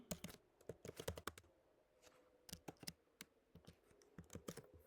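Quiet computer keyboard typing comes in uneven bursts of crisp keystrokes with short pauses between, close by and with no voices.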